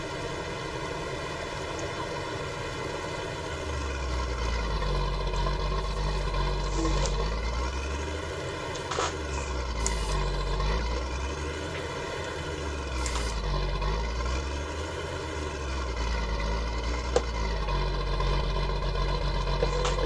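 A farm tractor engine runs steadily during ploughing and stubble clearing, its low, continuous drone holding close and loud throughout, with a slow rise and fall in pitch and a few brief clanks on top.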